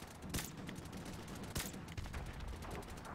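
Gunfire in Call of Duty 4 multiplayer: two loud sharp shots stand out, near 0.3 and 1.5 seconds, over a steady bed of scattered distant firing and game noise.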